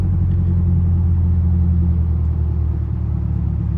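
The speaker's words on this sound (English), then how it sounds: "You can hear the revs going down." A 2022 Subaru WRX engine rumbles steadily at close range, its low drone easing slightly as the revs drop, with no talking.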